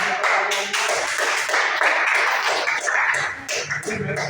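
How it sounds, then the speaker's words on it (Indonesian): A classroom group claps together in steady, fairly loud applause for a group's answers, filling the whole stretch with little talk. "Jadi tepuk tangan dulu untuk jawaban-jawabannya."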